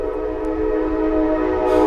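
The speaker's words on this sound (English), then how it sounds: "a train behind his house breaks the silence" A train rolls past just behind a house, its steady low rumble and sustained horn-like tones holding close and loud throughout, with a brighter hiss rising near the end.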